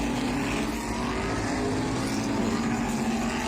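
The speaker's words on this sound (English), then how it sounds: "We're approaching 10 laps to go here in the second modified race." Modified stock cars race around the short track at Bowman Gray Stadium, a dense, continuous engine roar from several cars at once that holds steady and loud for the full stretch, with no talk.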